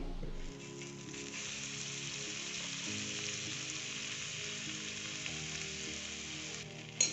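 Butter sizzles and fries on a hot tawa griddle while making Amritsari nutri kulcha, a steady close crackling hiss that carries on evenly throughout, with a faint clatter at the end.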